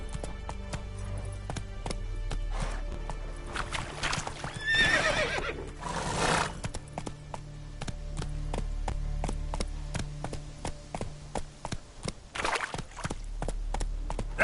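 Roach, Geralt's horse in The Witcher 3, gives a couple of loud whinnies amid steady hoof clip-clops and galloping, close and continuous with low rumble underneath.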